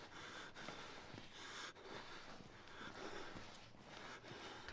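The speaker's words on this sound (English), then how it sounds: "Stop breathing so heavy, you fucking weirdo." A scared character in the horror game Outlast breathes hard, with snorting inhales and shaky exhales repeating close and low, no talk over it.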